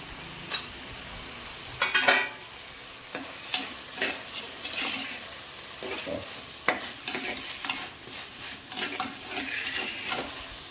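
Onions and tomatoes sauté in a pan for a sardine curry, giving a continuous soft sizzle broken by repeated scraping and clinking strokes of a spoon stirring against the pan, close and fairly loud.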